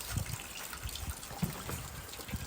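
Pouring rain near a travel trailer's awning, a steady hiss of falling water with irregular drips and splashes patting close by, continuous and moderately loud, with no voices.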